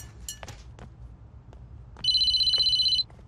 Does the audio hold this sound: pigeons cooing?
no